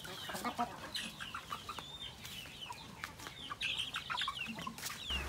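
Free-range chickens cluck and murmur on the range while being fed ipil-ipil leaves, overlapping soft calls from several birds nearby, with no voices.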